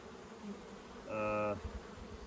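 A single honey bee from an open hive buzzes close by for about half a second, a loud tonal drone over a low background hum.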